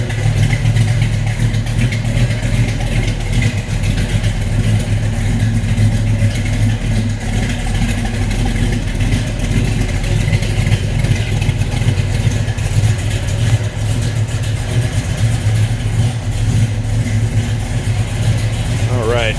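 A 1967 Chevrolet Chevelle SS 396 muscle car runs at a steady idle, giving a continuous low rumble throughout with a voice talking over it.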